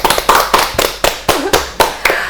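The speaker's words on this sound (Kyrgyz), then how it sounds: "Кол чабып коелу" Eight sharp, evenly spaced claps from a small audience at a game show, loud and close, each a crisp slap with a short decay and no talk over it.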